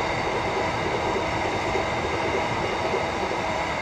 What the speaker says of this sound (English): there is a Freightliner Class 66